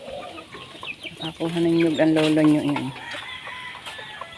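Chickens cluck and call near the coop, with one clear, drawn-out call in the middle, while a person talks over the birds.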